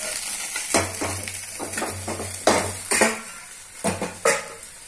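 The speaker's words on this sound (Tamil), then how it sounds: "எடுத்துட்டு வேற ஒரு பாத்திரத்தை வச்சு தாளிச்சுக்கோங்க." Spices are tempered in oil in a separate pan while cooking a vendakkai (okra) fry, heard as sharp metallic clanks and scrapes of a spoon against the pan over a faint, steady sizzle.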